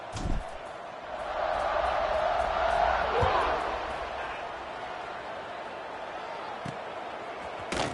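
Steady roar of a video game football stadium crowd swelling to a peak and then settling, with a few sharp thuds and a faint announcer-like voice underneath.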